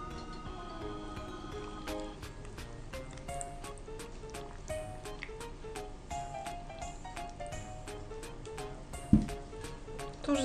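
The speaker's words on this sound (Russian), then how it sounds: "Теперь доливаем воды до самого верха." Water trickles and drips steadily into a glass jar holding sugar, with small clinks and splashes along the way and a brief thump near the end.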